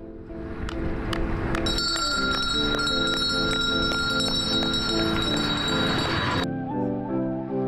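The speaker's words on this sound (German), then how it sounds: "wird gleich durch eine Glocke seine letzte Runde einläuten" A bell rung repeatedly at a race track to mark a cyclist's final lap in a six-hour human-powered world record attempt, its bright ringing loud and sustained over several seconds before stopping.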